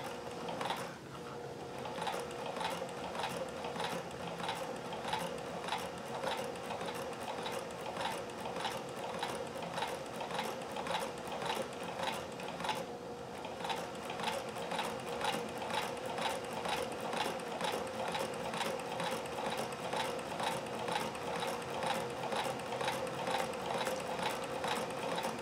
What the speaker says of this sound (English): This is where you need a lot of control on the machine, just to make sure your stitches are aimed right between the other stitches